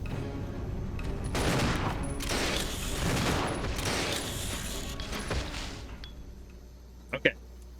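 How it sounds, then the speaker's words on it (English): Sustained volleys of loud gunfire in Resident Evil Zero as big bugs are shot. The rapid shots blur into dense bursts for several seconds, then fade, and two sharp clicks follow. "excuse me for one moment while I shoot big bugs"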